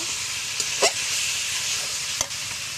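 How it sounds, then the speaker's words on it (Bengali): Meat stir-fries in a pan with a steady, bright sizzle, broken by a few sharp scrapes and knocks of the spatula against the pan. "আমি ভালোভাবে কষিয়ে নেব"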